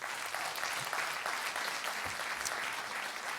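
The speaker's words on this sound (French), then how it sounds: "Ils méritent des applaudissements." Applause from the audience at the closing ceremony of the 36th Mont-Blanc comedy festival, a dense, continuous roar of many hands clapping at moderate distance, steady throughout with no speech.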